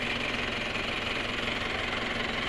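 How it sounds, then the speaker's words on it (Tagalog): A 4x4 owner-type jeep's engine idles, a continuous close, loud rumble with a steady rattling pulse and no talking. "dito naman tayo sa makina mga kapobre"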